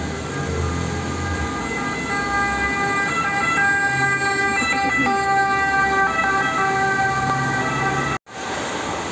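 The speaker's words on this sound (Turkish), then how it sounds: "Bakın tek bu ülkede duyacağınız korna sesi bu." A loud, sustained multi-tone vehicle horn blares close by in a street in Bologna, Italy, for several seconds, holding steady before cutting off abruptly near the end.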